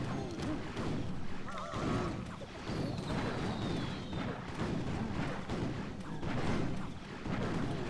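Fireball spell and battle explosions in Clash Royale, a dense stream of booms, impacts and game effects layered over steady background music, loud and continuous.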